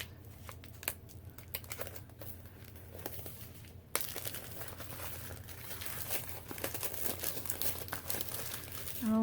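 Paper Pumpkin craft kit packaging being opened, close crinkling and rustling of paper and plastic that grows busier partway through, with no talking.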